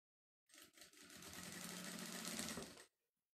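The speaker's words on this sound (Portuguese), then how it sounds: "E vamos costurar esse viés na volta todinha" Sewing machine stitching bias binding around the edge of a small fabric manicure kit pouch, one steady, close run of rapid whirring stitches lasting a couple of seconds with a brief start and a clean stop, no voices.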